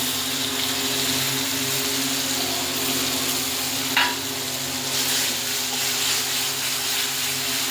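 Onion frying with garlic and onion paste in a pan for a katla fish curry: a steady, dense sizzle throughout with a faint clink near the middle, close and continuous, no voices.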